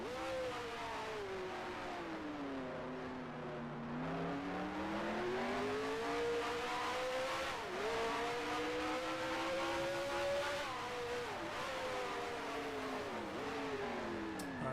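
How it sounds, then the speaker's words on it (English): Several Grand Prix Legends race cars around Monaco, engines droning and shifting pitch steadily as they rev up and down through gears, a continuous moderately loud whine with no talk. "I'm hearing a few cars."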